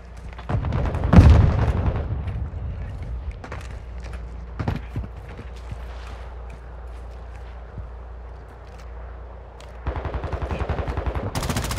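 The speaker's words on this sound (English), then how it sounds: "Throwing grenade!" A grenade thrown during a Modern Warfare II team deathmatch, with a heavy boom about a second in, followed by scattered gunshots and a burst of rapid automatic fire near the end.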